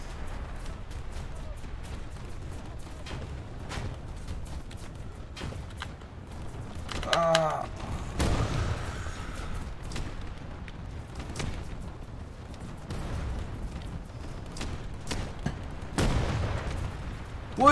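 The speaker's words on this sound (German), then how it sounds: "Eindeutig zu viele Schüsse" Bursts of gunfire and booming blasts crackle through a busy War Thunder game soundscape, with scattered sharp shots and a few heavier impacts over constant background noise.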